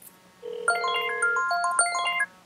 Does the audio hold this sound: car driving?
no